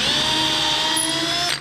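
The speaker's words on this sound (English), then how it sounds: "just drill some holes and put some lag bolts in" A power drill whines at a constant high pitch, loud and close, while boring holes for lag bolts to mount a small farm fuel transfer tank. It winds down at the end.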